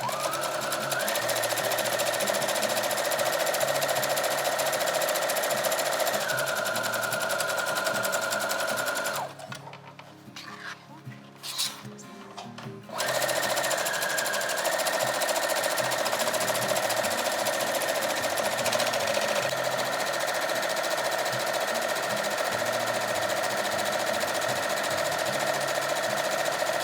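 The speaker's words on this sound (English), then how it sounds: "So I put my presser foot right to the edge of the binding tape, and you're gonna want to stitch, back stitch," Sewing machine running steadily while stitching binding tape onto a fabric face mask, a loud continuous motor whir that stops for a few seconds in the middle and then resumes for the remaining stitching.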